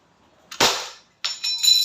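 Umarex Glock 17 Gen 5 airgun pistol, 654 fps, fired indoors: a single sharp snap followed by a brief metallic clatter and ringing, close and loud against quiet.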